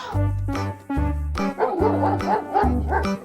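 A white toy dog gives a loud, close run of electronic barks and yips, several distinct woofs followed by a quicker string of yappy calls.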